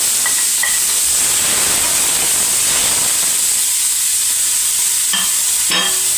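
Onion and tomato sautéing in a pan, with a steady loud sizzle and hiss of frying throughout and brief scraping stirs of the spatula, no talk.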